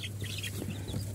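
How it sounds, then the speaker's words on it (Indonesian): Five-day-old bantam chicks, away from their mother, make a brief burst of soft clucking and peeping over a low steady hum, close and fairly quiet. "Ini teman-teman, ada juga anak ayam kate"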